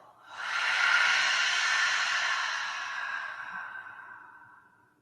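One long, loud exhale during a guided breathing exercise, a close, breathy rush of air that starts sharply, holds for several seconds and fades out smoothly, with no talking.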